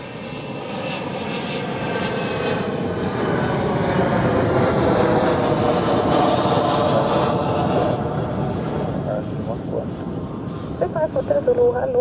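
A Boeing 737-400 without winglets roars past at Zurich Airport, its jet engines swelling into a loud, close rumble and then slowly fading, with faint voices underneath.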